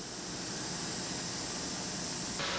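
A jet airliner's engine roars at an airport apron as the plane is prepared for its next departure, a loud, steady broadband whine that cuts off abruptly near the end.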